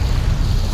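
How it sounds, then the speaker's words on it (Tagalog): Sea waves at Manila Bay's Dolomite Beach on a hot, crowded day, heard as a steady low wash and rumble mixed with wind buffeting, constant and fairly loud through the short stretch with no talking. "eto yung dagat"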